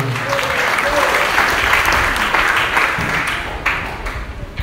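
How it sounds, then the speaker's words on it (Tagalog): A church congregation claps together during a worship service, a dense, steady wash of applause that stays loud throughout and thins slightly near the end. "Palakpak sa ginawin."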